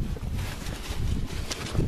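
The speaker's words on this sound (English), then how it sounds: "You'll have to excuse the wind." Gusty wind buffeting a microphone outdoors beside a Case 580C backhoe loader, heavy low rumbling that rises and falls in uneven bursts, with no voices.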